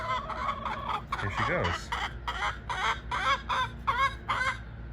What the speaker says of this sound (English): she was just making more noise than I've ever heard her make.